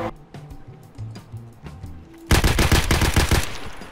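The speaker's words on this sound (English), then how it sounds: "I'm about to shoot somebody." Rapid automatic gunfire bursts out in the shooter game Escape from Tarkov, a loud, close, crackling string of shots after a quieter stretch of soft in-game footsteps and clicks.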